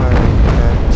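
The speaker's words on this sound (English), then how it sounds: "My opponent firing" Ship cannon fire in the naval combat game Naval Action, a loud, heavy booming rumble filling the whole moment, with dense low-end thunder from a close broadside.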